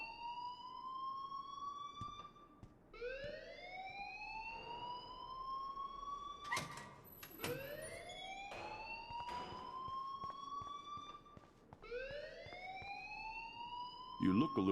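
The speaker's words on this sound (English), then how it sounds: "please turn off that alarm since that's your job" A fire alarm in the Life is Strange video game wails in repeated rising sweeps, loud and close, with brief gaps between cycles and a few sharp knocks mixed in.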